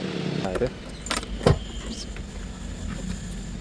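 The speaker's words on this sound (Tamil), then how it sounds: "14 பாரத் பென்ஸ் வண்டி சாவி." Keys to a BharatBenz lorry jangle in a few quick metallic bursts close by, over a low, steady vehicle background with some voices.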